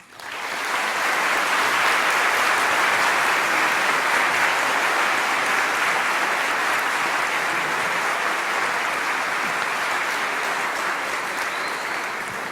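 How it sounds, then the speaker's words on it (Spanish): An audience at a screenwriting seminar applauds loudly and continuously, a dense, steady roar of clapping that rises within the first second and holds at full strength throughout, only easing slightly near the end. "Recibámoslo con un aplauso."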